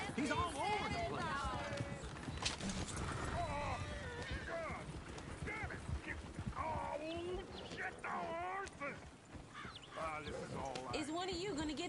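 A loose horse runs in Red Dead Redemption 2, its hooves clip-clopping steadily underneath nearly continuous talking voices and game sounds.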